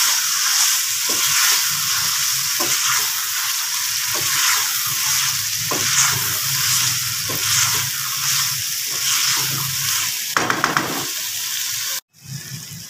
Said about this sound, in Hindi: अब हम उबला हुआ लोबिया शामिल करके इसके अंदर 5 से 6 मिनट इसको भूनेंगे।